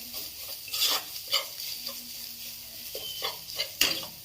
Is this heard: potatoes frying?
yes